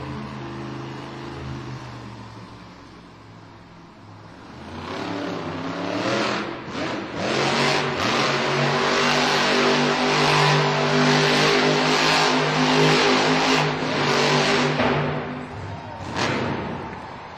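El Toro Loco monster truck at a Monster Jam arena event in Green Bay, engine idling low before bursting into loud, sustained revving with sharp throttle surges and crowd wash, close and dominant.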